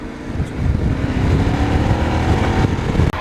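A Yamaha Tenere World Raid motorcycle ridden off-road on dirt, its engine droning steadily and loud with rumbling low end and wind buffeting throughout.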